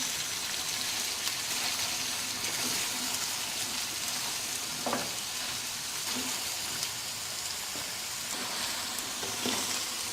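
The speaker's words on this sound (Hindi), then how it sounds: "सब्जियों को देर फ्राई करता हूँ।" Vegetables for a vegetable korma sizzle and fry in a pan with a steady hiss, close and fairly faint, with a few soft stirring scrapes and no talk.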